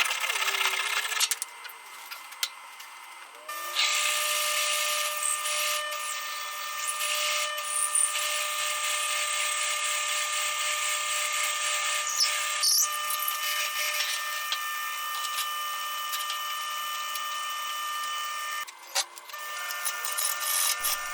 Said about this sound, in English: I am just cutting the lid off the board with a saw